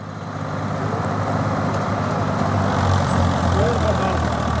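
A Swaraj 855 tractor pulls a 9-foot super seeder through muddy, sludge-like field ground, its engine droning low and steady at close range, with voices faintly underneath.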